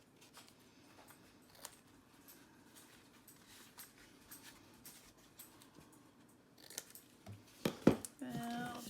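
Scissors snip the corners off small paper gift tags, a few crisp cuts arriving near the end after a quiet stretch of faint handling noise, close and fairly soft.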